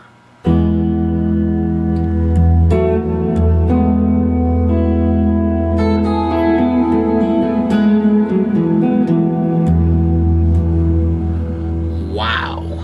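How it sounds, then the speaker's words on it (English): Sustained electric guitar chords through a TC Electronic Plethora X5 hall reverb ring out with a long, washy tail, notes blending into each other over a steady drone, loud and continuous. "so I'll turn the reverb on, and all of a sudden that same thing sounds like this."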